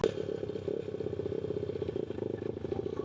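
A pit bike engine idling in gear, a close, steady rapid putter with a mechanical rattle and clatter throughout, no talking.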